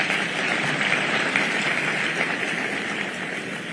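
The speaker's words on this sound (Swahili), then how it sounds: "Pigeni makofi huyo Professor." A large audience at Thika High School's 70th anniversary celebration applauds a professor, a dense, steady roar of clapping that carries evenly from a distance without any voices.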